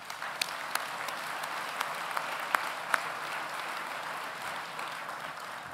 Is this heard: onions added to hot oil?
no